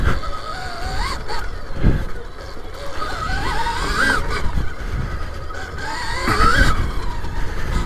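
Whine of a Stark Varg EX electric dirt bike motor with its cooling fan running, a steady tonal hum that rises and falls in pitch with throttle, moderately loud and continuous.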